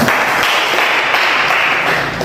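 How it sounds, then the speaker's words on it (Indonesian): A school classroom breaks into applause, a dense, loud burst of many hands clapping together that holds steady for a couple of seconds before easing off, up close and with no talking. "untuk kita semua kita beri tepuk tangan"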